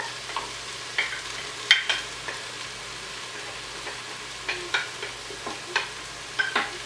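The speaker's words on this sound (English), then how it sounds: "we're getting that all stirred up here and letting those onions soften a little bit" Onions sizzle softly in a pressure cooker pot while a utensil stirs them, with intermittent scraping clicks over a low steady frying hiss.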